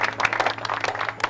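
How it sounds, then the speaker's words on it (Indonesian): Short burst of audience clapping in a cafe before a special performance, a modest group of hands patting quickly over a low steady background hum. "Ayo tepuk tangan."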